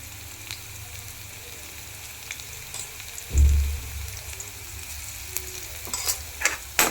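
Onion and green chili frying with turmeric for a Maharashtrian fenugreek (methi) bhaji, a steady low sizzle with soft stirring scrapes and a louder clunk of the spoon against the pan partway through.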